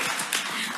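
Live podcast recording audience clapping and cheering in a hall, a dense burst of hand claps over a short moment, fairly even and close.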